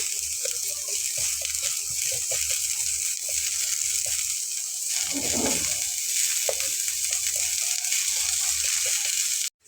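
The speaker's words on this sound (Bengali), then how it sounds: "পেঁয়াজটা একটু হালকা লাল লাল করে ভেজে নিয়ে" Onion and garlic fry in a small amount of oil, giving a constant bright sizzle. Soft, scattered stirring taps come through, and a short watery gush swells midway before the hiss settles again.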